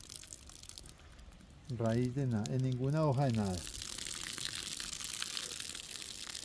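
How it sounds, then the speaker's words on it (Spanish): Water poured over Phalaenopsis orchid roots in a pot, splashing and draining out in a steady broadband gush that follows a short stretch of a person talking. "Y miren cómo bota el agua de una vez"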